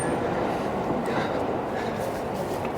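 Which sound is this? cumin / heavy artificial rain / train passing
train passing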